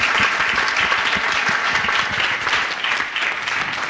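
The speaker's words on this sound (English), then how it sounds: "I'd like to give you a round of applause for making it to the end of the day." A conference audience gives a round of applause at the end of a summit day, a loud, dense, steady stream of many hands clapping that runs the whole stretch without pause.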